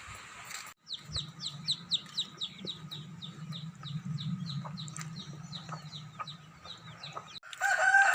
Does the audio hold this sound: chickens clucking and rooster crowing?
yes